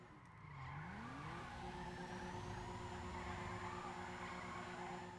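An Aston Martin DB5-style Dewbauchee JB700 in GTA V brakes hard into a sustained tire skid, a long continuous squeal over engine noise that holds steady for several seconds.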